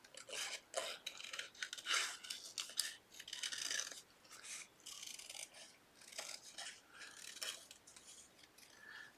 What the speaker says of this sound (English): If you hold your scissors up,